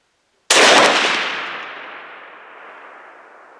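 A single sharp muzzleloader rifle shot fired while sighting in at a farm, a loud close crack followed by a long rolling echo that fades over several seconds.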